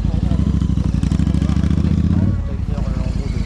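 A Royal Enfield motorcycle's single-cylinder engine runs in a steady, close, loud thump that shifts and settles partway through, with voices talking over it.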